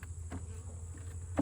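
Honeybees buzz softly and continuously during a transfer into a 10-frame hive box, a faint, steady drone with a couple of brief louder bumps.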